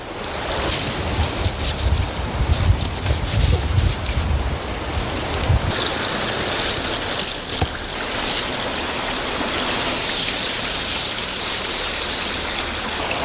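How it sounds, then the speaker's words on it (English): Strong wind roars and buffets against the microphone in loud, rumbling gusts that settle into a steady rushing blow. "It's a bit windy."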